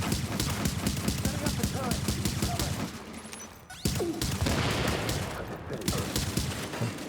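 Rapid MDR rifle gunfire in a video game, sharp repeated shots in quick bursts, loud and close, with a brief pause midway before another string of shots resumes.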